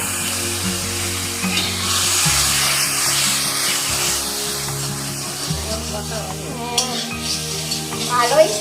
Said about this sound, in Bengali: গুলে আমি এতে কড়াইতে দিয়ে দেবো।